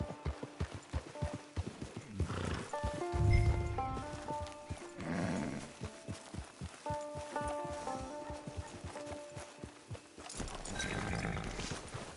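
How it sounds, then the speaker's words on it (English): Horse from the Red Dead Redemption 2 video game near a camp, with rhythmic hoof clip-clops and snorting and whinny-like calls over a moderate, layered background. "Get your horse."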